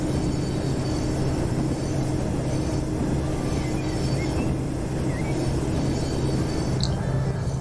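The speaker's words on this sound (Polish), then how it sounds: "dość się rozpędza ten pociąg" A train accelerating with three wagons in the MaSzyna train simulator game, giving a steady loud rumble of wheels and traction noise with faint squeals, continuous and close throughout.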